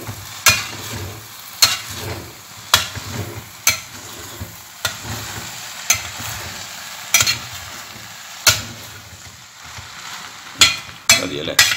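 Mashed jackfruit (chakka puzhukku) stirred in a pan, with about a dozen sharp scraping strokes at a steady rhythm over a soft, continuous sizzle, close and alone.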